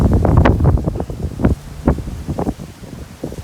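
Strong gusts of wind buffet the microphone in rough, uneven bursts, loud and close, with a rumbling low roar.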